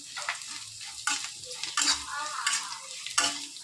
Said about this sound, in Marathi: आता शेंगदाणे सोडते. कांदा छान फ्राय झाला आहे मस्त बघा